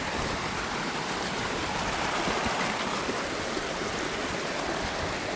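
A flowing mountain stream at a trail water crossing on a snowy December hike up Mt Whitney, a steady, loud, close rush of water that holds unbroken for the whole stretch with no talking.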